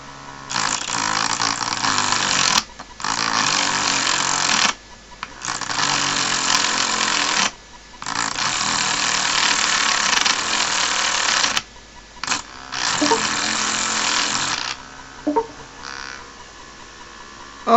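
A power tool trims pieces of steel welding rod in long, loud bursts of harsh buzzing, each lasting several seconds and separated by short pauses, with faint clatter after the last cut.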